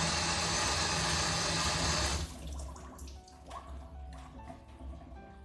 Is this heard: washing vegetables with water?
yes